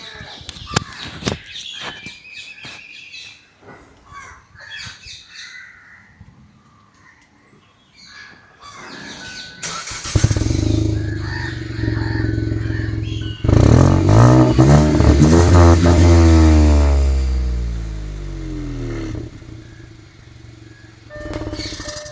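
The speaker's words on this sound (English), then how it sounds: "But this growl of the engine, no, that is super amazing." Hyundai i20 N Line engine cranking to life and revving, a loud growling idle with rising and falling blips, preceded by faint outdoor ambience with birds cawing.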